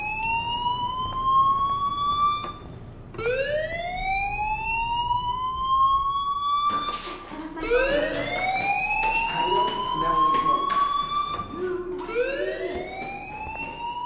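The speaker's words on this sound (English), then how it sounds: "do you hear that fire alarm?" A loud video-game fire alarm sweeps upward in pitch over and over, each rising wail repeating every few seconds without pause.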